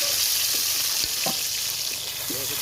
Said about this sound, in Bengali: আর বাদ বাকি যে মাছ আছে মাছগুলো আমি এভাবে ভেজে নেব